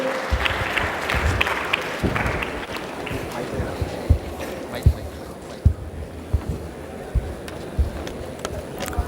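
Seminar audience clapping for a student admitted to IIM Bangalore, a sustained patter of hands with sharper individual claps standing out as it continues, with voices talking over it.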